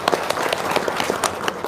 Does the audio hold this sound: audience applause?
yes